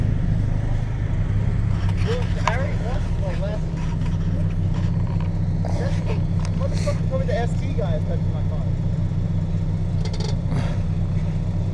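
A Honda Civic, front-wheel drive, idles with a steady low rumble and a few light revs among friends outdoors, while people talk over it throughout.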